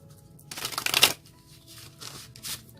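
Tarot or oracle cards shuffled close up during a career reading, one quick riffling burst followed by a couple of softer shuffling rustles.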